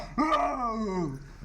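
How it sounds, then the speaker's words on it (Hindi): A single low, drawn-out growl from a bear in a town in Raigarh, India, rises and then trails off over about a second, fairly close and clear. "भालू के गुर्राने की आवाज भी आप सुन सकते हैं।"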